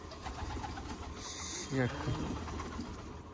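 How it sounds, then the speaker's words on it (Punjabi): A pigeon gives a short, low coo amid steady background noise and faint talking. "ਸਾਰੇ ਆ ਗਏ ਜਿਹੜੇ ਆਪਣੇ 9-10 ਕਬੂਤਰ ਆਪਣੇ ਹੈਗੇ ਨੇ"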